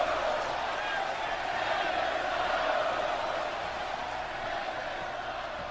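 A dense, steady roar of an arena wrestling crowd in WWE 2K18 during an NXT match between Pete Dunne and AJ Styles, continuous and fairly loud, with no speech.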